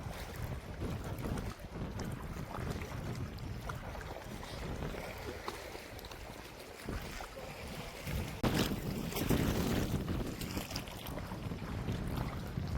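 Water pours steadily at Kote Abbey Falls near Sakleshpur, producing a continuous broadband roar with a gusty, wind-like wash. It carries on alone without talk, swelling slightly louder toward the end.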